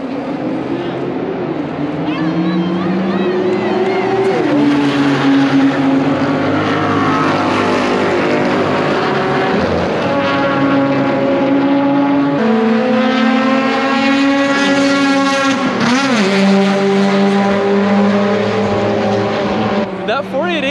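Supercars, including Porsche GT3 and 992 Carrera models and a Ferrari 488, roar around the Miami Homestead track during a track day, with loud engine notes climbing and shifting through the gears and continuous high-revving exhaust drone.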